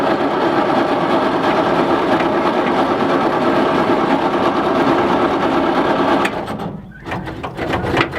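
A Bedford K model ratrod truck's engine cranks over and tries to start, a loud, steady, rapid churning for about six seconds that cuts off abruptly, followed by a few scattered clanks.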